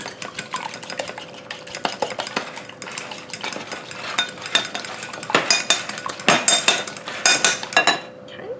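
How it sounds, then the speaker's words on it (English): An egg being beaten in a bowl for spicy cheese sticks, heard as a steady run of quick clinking strokes from a utensil against the bowl, growing louder and busier toward the end, with a faint background hum. "I'm going to beat our egg up."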